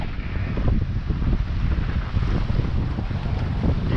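A sailboat runs under freshly hoisted sails, with strong wind buffeting the microphone and a rushing wash of water along the hull, loud and continuous with no talking.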